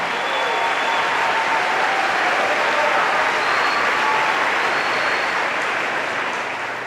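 Church congregation breaking into sustained applause during a sermon, a broad, loud wash of many hands clapping continuously, easing slightly at the close.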